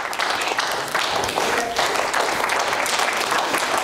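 A church congregation claps during a sermon, a loud, dense burst of many hands filling the room continuously without pause.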